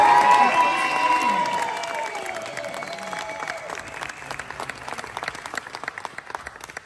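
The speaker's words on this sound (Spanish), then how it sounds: "¡Fuerte aplauso!" Large crowd applauds and cheers at a truck show event, loud at first and gradually thinning, with a tonal musical sweep fading under the clapping early on.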